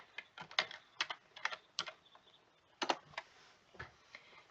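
Keys on a computer keyboard tapped out in short bursts as a search word is typed, crisp close clicks clustered in quick groups with brief pauses between them.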